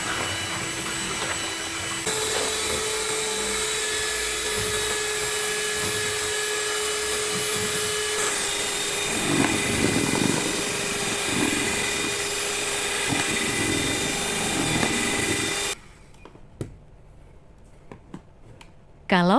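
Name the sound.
electric mixer beating eggs, palm sugar, salt and vanilla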